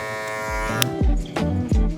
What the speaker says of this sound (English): From here, I'm gonna just kind of clipper over comb this overweight.